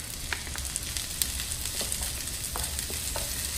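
Minced garlic goes into onions already frying gently in a pan, giving a steady soft sizzle with a few faint crackles and light stirring scrapes, close and quiet, with no one talking.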